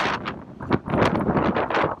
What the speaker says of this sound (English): It's windier than yesterday.